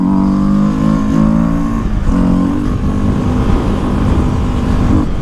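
A Honda 300F motorcycle doing wheelies on a track: a loud, close engine drone that holds steady revs, briefly dips, then climbs again, with no voices.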